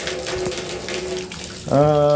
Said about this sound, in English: there's the shower thing going on